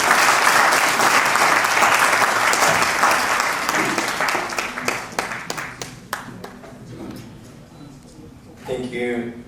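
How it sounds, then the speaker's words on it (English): A large audience applauds the chief guest at an annual convention, dense clapping filling the room before thinning into scattered individual claps, followed by a brief burst of speech at the end. "Please have a huge round of applause."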